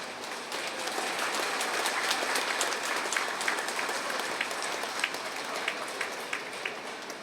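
Steady audience applause at a student honoring ceremony, a continuous moderate-level wash of many hands clapping with crisp individual claps popping out, sustained for several seconds without speech.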